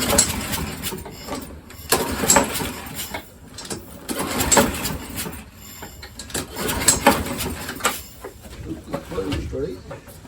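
A John Deere JS46 walk-behind mower being pull-started, with repeated surging cranking attempts, rough sputtering bursts and a voice talking throughout.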